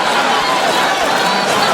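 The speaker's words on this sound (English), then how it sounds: "Brings a roar from the crowd, too." Boxing arena crowd roaring after Pacquiao lands a hard left hand on Mayweather, a dense, loud, sustained wash of cheering that fills the whole moment without letup.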